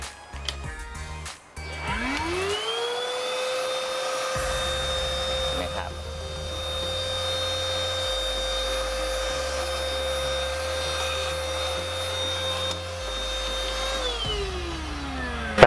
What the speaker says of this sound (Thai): เราก็จะใช้เครื่องดูดฝุ่นทำความสะอาดตัวเฟืองด้านในได้เลย